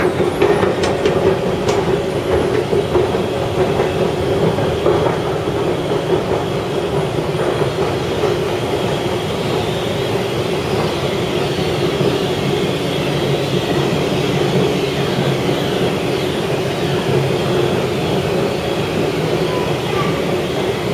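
A Saint Petersburg metro train runs steadily near Novokrestovskaya station, a loud continuous rumble of wheels on rail with rattling carriage noise and occasional squeals, no voices over it.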